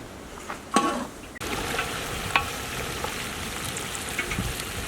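Mutton pieces sizzling steadily in a pan with ginger powder, fennel seed powder and curd, with a few scraping clinks as the meat is stirred; the frying hiss swells after a brief pause and stays close and even.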